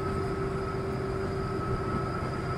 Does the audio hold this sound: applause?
no